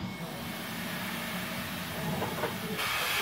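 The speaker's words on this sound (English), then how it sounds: "It's going to give a lot of steam out, so I might have to stand back a bit." A steam locomotive cooling down vents steam, a steady broad hiss and rushing noise close by that holds throughout and brightens toward the end, with no talking over it.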